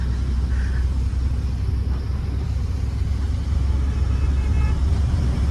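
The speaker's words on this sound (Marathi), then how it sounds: "आज तो गाडी चालवतोय, मी डंपर चालवतोय" A heavy Hywa dumper truck rumbles continuously while being driven, a steady loud low engine drone with road noise and a faint horn-like toot in the background, no talking.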